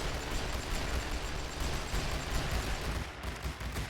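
Dense, continuous crackle of massed infantry rifle fire in the First World War strategy game The Great War: Western Front, a loud, unbroken barrage with no pauses.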